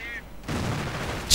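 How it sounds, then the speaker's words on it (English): Grenades bursting on Rangers inside a building in a World War II real-time strategy game, a short sharp boom followed by a rumbling blast, with a second crack at the end. "Grenadiers moving in. Could be grenading the Rangers inside."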